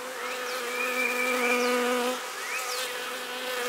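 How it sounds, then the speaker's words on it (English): Honey bees buzz steadily around a hive frame as they are shaken off during queen cell inspection, with a dense close-up drone and individual bees whining past. "Shake these bees down."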